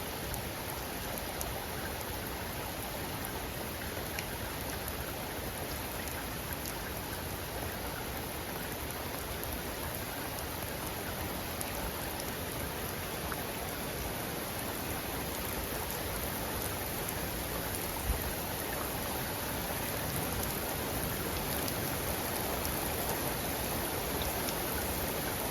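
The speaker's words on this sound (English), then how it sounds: "It's just gonna be a bunch of heavy rain actually." Heavy rain pours steadily during a thunderstorm, a dense, unbroken hiss and roar of drops on surfaces close by, with no wind, thunder or voices.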